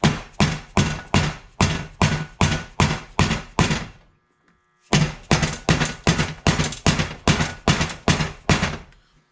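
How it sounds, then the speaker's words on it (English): Bearing races being hammered into the front wheel hub of a Graco LineLazer IV 5900 line striper with a race setter: two runs of sharp, evenly spaced metallic strikes, close and loud, separated by a short pause. "They sit right on top and just bang them in."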